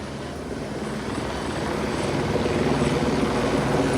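A police helicopter flies overhead, its steady rotor and engine drone filling the air at a strong, even level for the whole stretch, rising slightly toward the end, with no talking.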